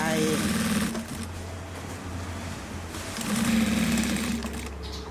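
An industrial sewing machine stitching the collar onto a polo shirt, its motor whirring in two steady loud bursts with a quieter stretch between, close up, with speech underneath.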